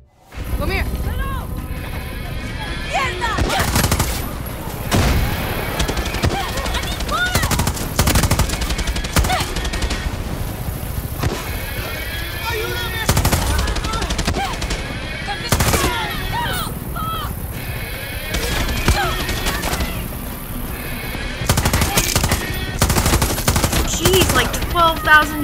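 Sustained gunfire during a Far Cry 6 firefight, with dense, overlapping shots and bursts at mid distance and a few sharper close reports, continuing without letup over a busy game soundscape.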